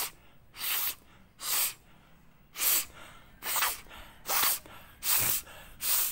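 Clarified butter (desi ghee) is sniffed into the nose as a Ghrit Neti practice: seven close, forceful, airy sniffs at a steady rhythm, each about half a second long, with quiet pauses between them.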